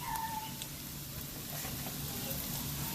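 Potatoes frying in oil in a pan on the stove, a steady close sizzle and crackle that holds without a break for the whole stretch.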